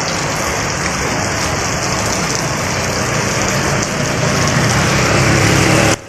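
Heavy rain pouring in Puducherry, a dense, loud and steady hiss of downpour on surfaces with no voices.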